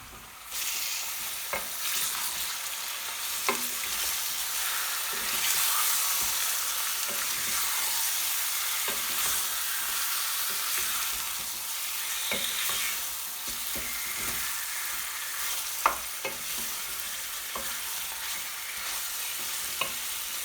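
About 750 grams of large beef chunks fry in a pot for a home-style hot beef curry, with a dense, steady sizzle and periodic scraping clicks of a stirring spoon, close and without talk.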